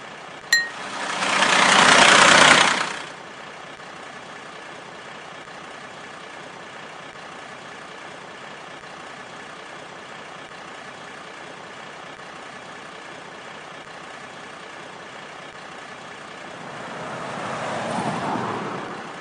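Junk truck engine in a kids' truck video game: a short engine swell at the start, a long quiet stretch of faint hum, then the motor rising again near the end.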